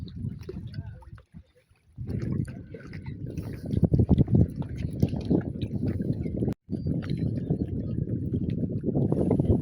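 Water roars at low tide, a loud broadband rush that fills most of the clip after a brief quieter start, with wind buffeting the microphone.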